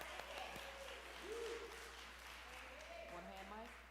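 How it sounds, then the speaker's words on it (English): Applause from an audience as a speaker is introduced at a women's gathering, faint and distant, under a voice that talks over it. "Hey, y'all gonna start clapping now."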